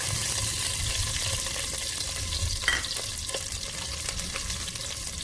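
Whole garlic cloves, about a dozen, toast in ghee in a pan, giving a steady, close frying sizzle with a faint scrape or clink near the middle and no talking.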